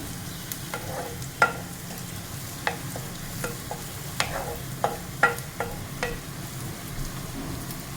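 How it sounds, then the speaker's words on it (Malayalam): Spices and watermelon curry ingredients frying in hot oil in a pan, with a steady sizzle broken by scattered pops and crackles, close up and without talk. "ഇതൊന്ന് എണ്ണയിലൊന്ന് മുരിയട്ടെ"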